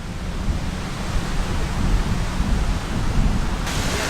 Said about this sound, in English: I think it's quite easy to see the extent of the wind today.